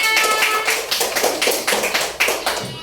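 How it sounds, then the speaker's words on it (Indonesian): Children in a first-grade classroom clap together for a group of classmates, a dense burst of overlapping claps with a loose, rapid rhythm that carries on steadily and close by, with no talking. "Tepuk tangan dong untuk kelompok 3."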